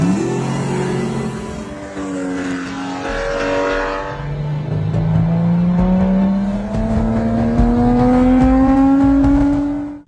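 Vintage Ferrari race cars competing on hot asphalt, engines roaring loudly and revving up through rising gears, one car climbing steadily in pitch as others pass, continuous and close.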